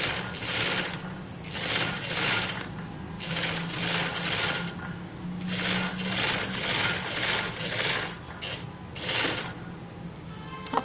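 A sewing machine stitches a frill onto a baby frock sleeve in rhythmic bursts of rapid mechanical clatter, running and stopping repeatedly at close range with short pauses between runs.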